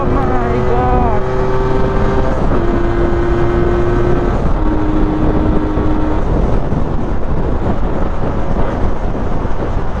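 A Yamaha ZR 125 scooter fitted with a larger carburetor runs at high speed, its engine holding a steady, rising whine under heavy wind roar, with a voice speaking briefly at the start.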